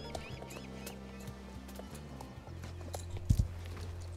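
Rhythmic hoofbeats of a Tennessee Walking Horse cantering, with a heavier thud near the end as it lands a small jump, over low background hum.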